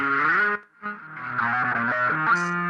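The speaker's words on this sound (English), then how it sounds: "I really love this distortion stuff" Crunchy, heavily distorted guitar tone with a thick bottom end, sustained chords ringing loud and close, with a brief dip before the riff continues.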